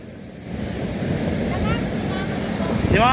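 Strong ocean surf rolls in as a broad, continuous roar, swelling gradually and mixed with wind buffeting the microphone. Faint voices sound briefly near the end.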